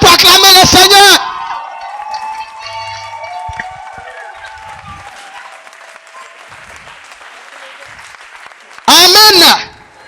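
A church congregation bursts into loud applause and cheering to acclaim the Lord, a short dense burst at the start and another near the end, with a preacher's voice and music carrying on between them.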